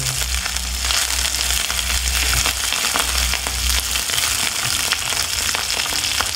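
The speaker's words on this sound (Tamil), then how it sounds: "இப்போ கருவேப்பிலை பொரிஞ்ச உடனே ஒரு பச்சை மிளகாய் போட்டுக்கலாம்" Curry leaves and a green chilli crackle and sizzle in hot oil, a steady loud frying hiss with sharp pops scattered throughout, no voices over it.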